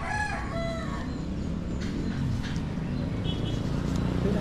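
A rooster crows outdoors, one drawn-out cock-a-doodle-doo at the start, fairly close, followed by a low steady background rumble with faint scattered bird sounds.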